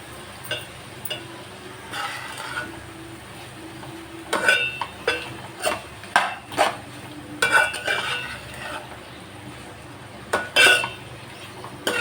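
Spoon stirring an egg, drumstick and dried prawn curry in a pan, with irregular scraping and clinks against the metal over a soft sizzle, and no talk.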